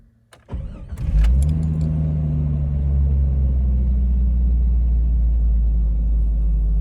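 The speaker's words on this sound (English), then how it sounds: "Let's put it in the ignition here and start the vehicle" A 1990s-era Jeep Cherokee XJ cranks with a short whir, catches, and settles into a steady low idle, the engine humming smoothly and close up from inside the rebuilt vehicle's interior with no talking.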